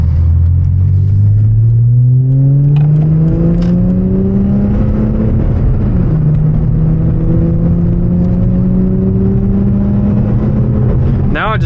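A car drives a potholed road, its engine revving and shifting up through the gears with a steady loud drone and rumble, while a person talks over it.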